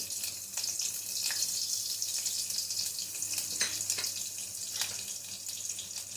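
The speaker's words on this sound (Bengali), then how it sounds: "এবার আমার তেলটা গরম হয়ে গেছে, এতে আমি দেব রসুন কুচি" Chopped garlic hits hot oil in a pan and gives off a steady, fairly quiet hiss of sizzling, with a few sharp crackles and pops rising above it. No one speaks.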